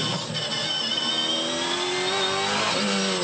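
Onboard engine roar of a Dunlop Super2 Series racing car, revving high and shifting pitch as it accelerates, loud and close throughout with no talking.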